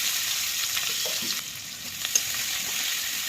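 Onion and green chilli frying in a pan after small puti fish, giving a steady, fairly quiet sizzle with a few faint clicks of stirring, with no talking.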